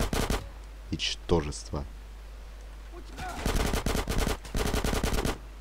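Bursts of rapid automatic gunfire ring out in GTA San Andreas, split into several volleys with a short spoken line in between, the shots loud and close.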